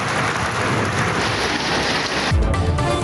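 Heavy rain falls with strong wind in a storm, a dense continuous hiss of drops on surfaces, and a deep rumble swells near the end.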